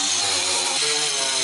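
A wire brush, probably power-driven, grinds rust off the body of a Volkswagen T4 Transporter van, making a loud, continuous abrasive whine close up for the whole brief moment.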